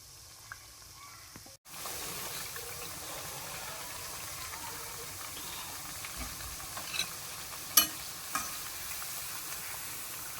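Kothimbir wadi, a crispy Maharashtrian coriander fritter, shallow-frying over a medium flame: a continuous close sizzle and hiss with a brief dropout near the start and a few faint clicks later.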